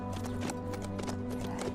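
Horse hooves clip-clopping in the survival game HumanitZ, a steady quick patter of hoofbeats over a droning hum, fairly faint.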